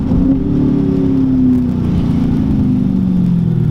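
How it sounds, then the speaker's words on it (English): A Dodge Scat Pack's V8 engine drops through gears while driving in rain, with loud, close revving that falls and rises in pitch between downshifts over steady road and cabin rumble. "Love the downshifts on this car."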